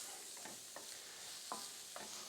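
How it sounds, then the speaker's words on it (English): Chopped green onions sizzle in a hot pan during a honey miso tofu stir-fry, with a constant hiss and a few light scraping stirs of a utensil against the pan. "I've got some chopped green onions or scallions, and we're going to add those in and just stir them to soften them just a bit"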